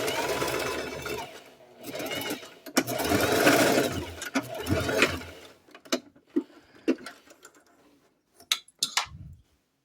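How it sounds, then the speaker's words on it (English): A sewing machine stitches cargo mini skirt pieces, running in a rapid whirring burst for several seconds, then giving short intermittent stitching spurts with pauses between. "Take these to your sewing machine"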